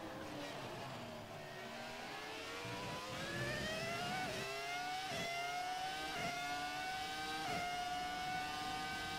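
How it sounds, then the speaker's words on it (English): A 2003 Williams FW25 Formula 1 car in a racing video game at France screams up through its revs, with several quick gear shifts briefly dropping the pitch before the engine climbs again, loud and continuous with no talk. "I'm just gonna play the natural sounds just for the final few seconds of this lap, just so you can enjoy the engine noises."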